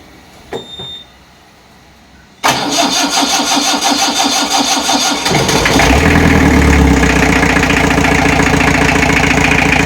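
A Willys jeep engine cranks briefly after a quiet moment, catches with a loud burst, and settles into a loud, steady, throbbing idle close by.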